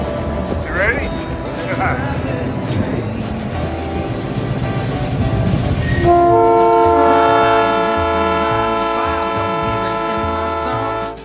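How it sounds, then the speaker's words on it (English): A Hawaiian Railway Society train rumbles along with a long, loud horn blast in the second half over the clatter of the cars, heard close up. "Let's ride this train."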